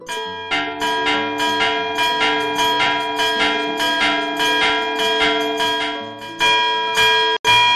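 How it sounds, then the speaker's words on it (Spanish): A church bell rung by hand strikes about a dozen times in a steady, brisk rhythm, loud and close, each ringing tone decaying into the next before a short pause and a final strike. "Una maravilla, hombre, tocar la campana."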